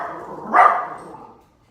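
A dog gives a single loud bark close by, followed by a brief fading tail, with no other sound around it.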